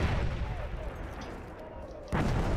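Grenade blast in the Battlefield 1 shooter, a sudden heavy boom near the end of the clip after a stretch of dense, rumbling battlefield noise.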